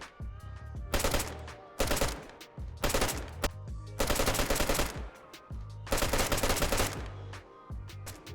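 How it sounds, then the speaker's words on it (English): Bursts of automatic fire from the RA1, an AUG rifle, in the video game DayZ: five loud rapid volleys roughly a second long, separated by short pauses, with no voice over them. "They've also added back the RA1. This is the classic AUG you guys might know and remember from a few years back."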